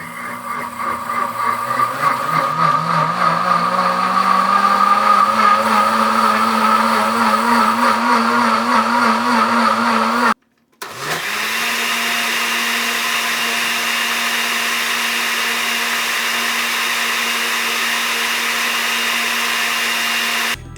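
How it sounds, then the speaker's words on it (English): A Pampered Chef Deluxe Cooking Blender and an old-school Osterizer blender run one after the other, each giving a loud, steady motor whine; the first ramps up in pitch, then after a brief silence the second drones at a constant pitch. "Let's do a head-to-head test."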